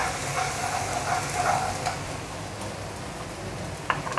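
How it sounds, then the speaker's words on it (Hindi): Ginger garlic paste fries in a pan with a steady close sizzle and crackle, with a few light utensil scrapes and taps toward the end. "अब इसमें हमने अदरक लहसुन का पेस्ट डालना है। इसको भूनते रहना।"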